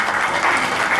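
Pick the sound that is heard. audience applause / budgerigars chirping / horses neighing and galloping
audience applause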